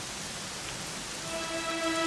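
Steady rain falling in Dragon Quest XI Echoes of an Elusive Past, an even hiss of drops on surfaces, with a soft tonal note of the game's music rising toward the end.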